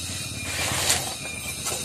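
A Honda CB100 motorcycle engine with a slipping clutch revs hard and steadily up close, a loud continuous roar with a hissing top end and slight rises in pitch.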